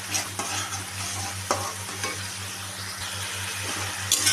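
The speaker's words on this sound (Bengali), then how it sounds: "ততক্ষণ অবধি আমরা নাড়তে নাড়তে এটাকে ভেজে নেব" Spice masala frying in oil for a Bengali bhola fish recipe with mustard and poppy seed, steady soft sizzle with repeated scraping stirs of a spoon in the pan.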